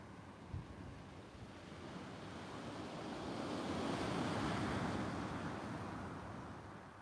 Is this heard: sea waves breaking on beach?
yes